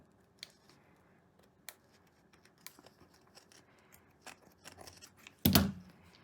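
Scissors snip glue threads while an Easter wreath decoration is being made, a few faint clicks and small handling noises, ending in a louder rustling burst near the end.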